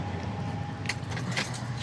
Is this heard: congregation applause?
no